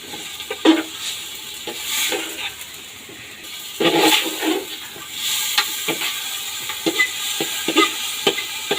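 Beef pieces frying in a pan with green chillies just added, stirred and pressed by hand: an uneven run of scraping, clattering stirs over a soft, steady sizzle, close by, with no talking.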